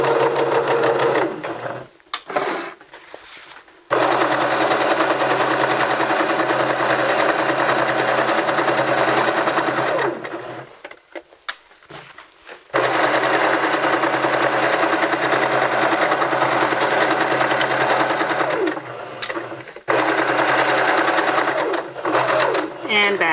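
A sewing machine stitches T-shirt fabric for a dress, back-stitching then sewing forward in several loud buzzing runs broken by brief pauses, with a voice talking over it.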